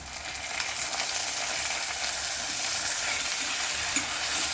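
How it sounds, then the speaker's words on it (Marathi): Onion and tomato sauté in a hot pan, a steady, loud sizzle and hiss that holds throughout with no talking. "कांदा आपल्याला हा छान लाल होईपर्यंत परतून घ्यायचा आहे"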